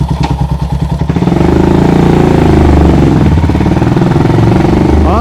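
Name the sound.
custom Royal Enfield Himalayan motorcycle engine starting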